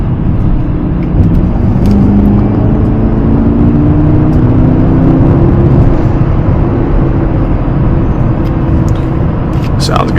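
A Mercedes-Maybach GLS 600 on 24-inch wheels with low-profile tires cruises along a road, its steady low engine and tire rumble continuous and close throughout, with a brief faint rise near the end.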